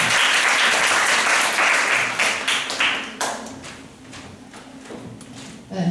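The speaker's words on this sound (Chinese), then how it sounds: "我就热烈掌声欢迎玉宏" Audience applause welcoming a speaker to a talk on human experimentation, dense and loud at first, then thinning into scattered claps that fade toward the end.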